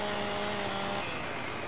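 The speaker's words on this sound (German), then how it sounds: "Kettensägen, wir probieren das mal." A chainsaw in the farming game Landwirtschafts-Simulator 17 gives a steady, buzzing engine drone that runs loud and unbroken, with a slight drop in pitch partway through.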